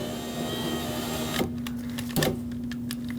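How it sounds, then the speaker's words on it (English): A power window motor in a 2009-2015 Honda Pilot whirs steadily as it drives the window regulator, with a sustained electric hum, then a couple of clunks as it shifts and stops. The sound is close and nobody talks. "With the ignition on and the window switch plugged back in, let's lift up the regulator where it bolts onto the window"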